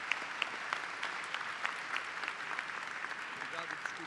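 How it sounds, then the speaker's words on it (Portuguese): An audience at a Portuguese-language teachers' seminar applauds the visiting chancellor, a continuous and fairly faint wash of clapping with some louder individual claps throughout. "Gostaria de pedir uns aplausos pela visita do chanceler"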